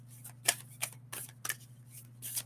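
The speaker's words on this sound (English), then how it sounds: "We're just going to have to do a regular shuffle because these suckers are stiff." Someone gives stiff oracle cards a regular hand shuffle, producing quiet, rhythmic riffling bursts about every half second over a low steady hum.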